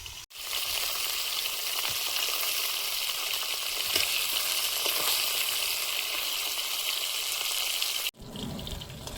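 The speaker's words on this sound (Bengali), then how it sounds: "মাছগুলো ভাজা হয়েছে, তুলে নেব।" Fish frying in a pan for a pond-fish curry, a dense steady sizzle and crackle running loud and close for about eight seconds before cutting off abruptly near the end.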